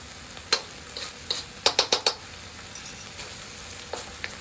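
Soy sauce and fish sauce being stirred into chicken sizzling in a pan for Thai basil chicken, a run of quick scraping stirs and light clatters over a steady, soft frying hiss with no voices.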